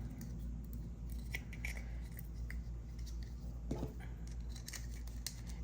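Scissors snip through bracelet cord during jewelry making, a series of short crisp cuts and rustles over a steady low room hum.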